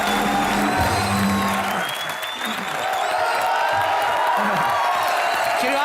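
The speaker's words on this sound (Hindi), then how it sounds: "श्रीवास्तव जी के लिए जोरदार तालियां" A studio audience at a comedy show applauding Raju Srivastav, steady loud clapping with some cheering that dips briefly and then swells again, with music playing over it.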